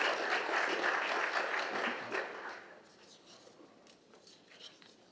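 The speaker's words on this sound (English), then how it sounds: "Let's give her a round of applause" A room at a Montgomery County, Tennessee county commission meeting breaks into a round of applause that holds steady for a couple of seconds, then thins out to a few scattered claps.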